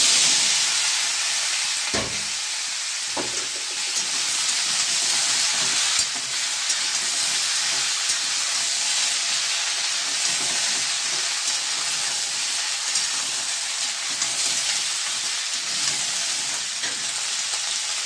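Washed vegetables hitting hot oil with asafoetida tempering give a loud, steady sizzle and hiss of frying, with a couple of stirring knocks near the start, no talking.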